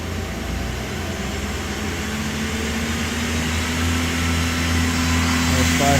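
The spindle of a 2009 Mazak Nexus 200MSY II CNC lathe running up in speed, a loud steady mechanical whir and hum with tones gradually rising and building over a few seconds.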